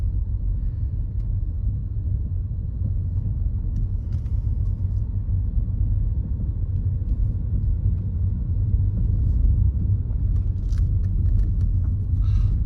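A car drives along a road near Pilar, Bohol, with a steady low rumble of engine and tyres heard from inside, continuous and moderately loud, with faint rattles but no talk.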